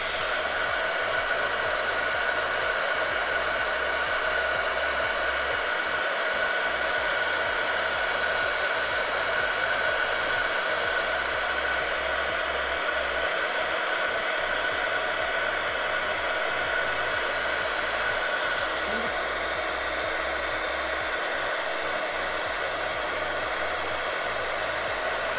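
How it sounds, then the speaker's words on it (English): A heat gun blows a steady, loud, continuous hiss of hot air throughout while expanding Nuvo expanding mousse on a craft surface. "if you want to bring out more texture, use your heat gun to expand it"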